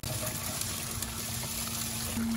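Water from a gold sluice spills steadily onto the ground outdoors, a continuous trickling and gushing wash with a faint steady hum beneath, moderately close and unbroken throughout.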